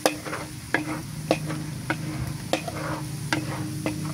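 Stirring and sizzling of a browning topping for sinukmani (Filipino sticky rice cake) frying in a pan, with regular spoon scrapes about every half second over a steady close fry hiss.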